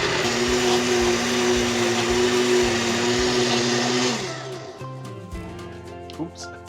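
A blender whirs loudly while mixing cold soup, a steady high motor drone that winds down after about four seconds, leaving quieter clicks and rattles as the jar settles.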